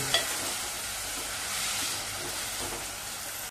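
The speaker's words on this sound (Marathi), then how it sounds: "बघा टोमॅटो छान आता मी परतवून एकजीव करून घेतलेला आहे" Chopped tomatoes sizzle and crackle in a hot pan while being sautéed and stirred for dal tadka, a loud, continuous close-up frying hiss with no voices.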